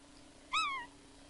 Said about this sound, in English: That's a cat, man, what the hell?